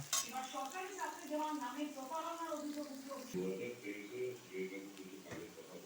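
Whole cumin seeds fry in oil in a pan with a soft, steady sizzle and occasional stirring, sitting mostly beneath a person talking throughout.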